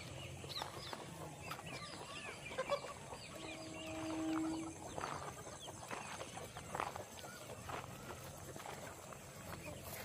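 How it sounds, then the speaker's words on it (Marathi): Free-range desi hens and chicks on a poultry farm give soft, scattered clucks and a few brief calls, faint and mid-distance, while a voice talks over the outdoor background. "प्युअर गावठी कोंबड्यांचे।"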